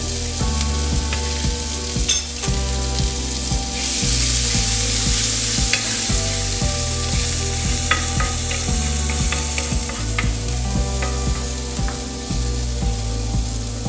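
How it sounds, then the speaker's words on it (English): Shallots and garlic sizzle and fry steadily in virgin olive oil in a pan, close and loud, with stirring scrapes and clinks over the continuous crackle and low background hum, no talking. "And then we're going to add in our shallots and our garlic."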